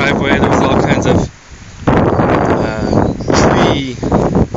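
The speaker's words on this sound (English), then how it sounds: "you can see it's pretty windy out here" Strong wind gusts buffet the microphone outdoors at La Sila on a blustery day near a driveway strewn with fallen tree debris, loud rough rumbling bursts broken by a brief lull in the middle, then resuming in heavy waves.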